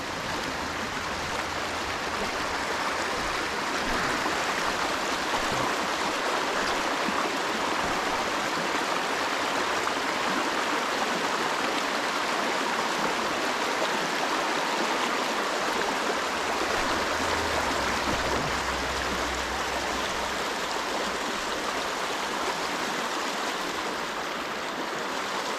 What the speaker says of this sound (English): Nice little stream coming in here.